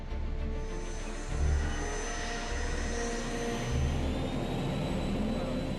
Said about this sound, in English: The aircraft accelerates to over 250 kilometers per hour for its first takeoff